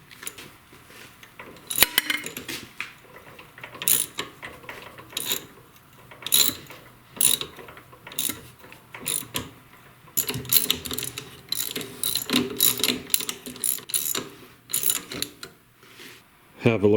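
A left-handed tap cutting threads in a workpiece held in a lathe, with cutting oil, gives irregular metallic clicks and ratcheting scrapes in short bursts, close and moderately loud, with faint talk in places.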